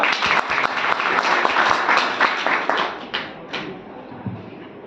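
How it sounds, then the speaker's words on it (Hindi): Loud applause from an audience for the host at an Indian motivational speech event, dense steady clapping that thins out toward the end. "हमारे हॉस्टिंग के लिए भी बहुत जोरदार तालियां।"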